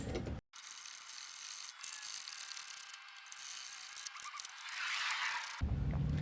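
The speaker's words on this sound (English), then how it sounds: "I'm going to grab my 13mm socket and then just go ahead and finish them up" A 13mm socket ratchet drives screws home on a Pride mobility scooter canopy mount, its fine rapid clicking steady and close for about five seconds, with no talk.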